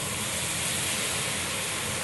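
Liquid splashed into a hot pan of vegetables sends up a steady, close, broadband hiss of steam that holds at an even level throughout, with no talking.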